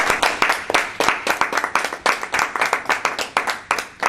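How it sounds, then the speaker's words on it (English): An audience at a Toastmasters meeting claps steadily for a speaker walking to the podium, individual sharp claps clearly audible in a brisk, slightly uneven rhythm, close and moderately loud with no voices. "So in Toastmasters, we clap till they get to the podium."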